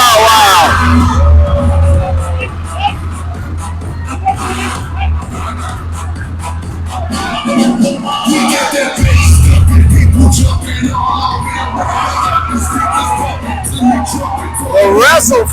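A wrestling crowd at an RWA live event in High Point roars and yells steadily as tag team champions whip it up, with whoops and shouts sustained loudly throughout.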